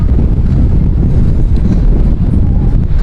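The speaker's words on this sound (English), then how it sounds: "Oh man, that is windy." Strong wind buffets the microphone throughout, a loud continuous low rumble with gusty fluctuations and no speech, outdoors near a Zellers store on Orfus Road, Toronto.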